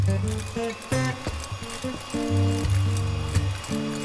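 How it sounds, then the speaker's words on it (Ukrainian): An electric mixer whips egg whites at low speed, a close buzzing whine that starts and stops in short bursts with rattling as the beaters move around the bowl. "збиваємо на низьких обертах міксера до пивної піни"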